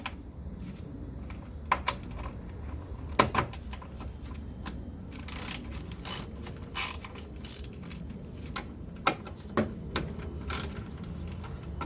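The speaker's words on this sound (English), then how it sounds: "Now with a 10mm, unscrew the 2 bolts." A 10mm ratchet loosens two bolts on a Chevrolet Sonic coolant reservoir, giving quiet, close clicking bursts in short irregular runs with small metallic knocks between them.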